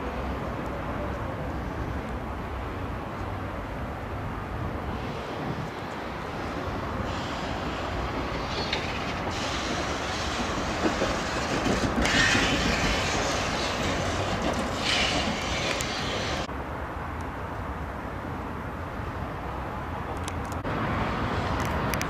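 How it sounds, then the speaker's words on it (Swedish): A narrow-gauge train runs on the line inside the Tashkent Railway Museum, giving a steady rolling rumble that swells slightly in the middle and holds on for the whole stretch, with no voices over it. "där har vi en smalspårig järnväg som man kan åka med här inne"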